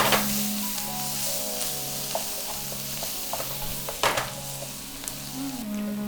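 Onions and spices, with a little salt, stir-fry for pork keema curry: a steady close sizzle with occasional scrapes and taps of a utensil against the pan, no voices.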